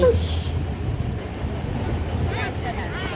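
Interior of a moving train on a journey to Mumbai, a low steady rumble and rattle of the carriage with faint squeaks and passing noises.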